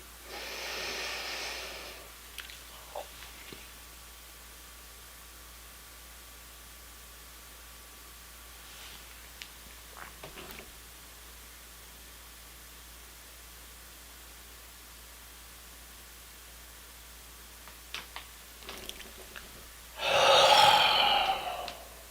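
Deep breathing exercise with close, audible breaths: one soft breath at the start, a long quiet stretch, then a stronger breath near the end, with no talking.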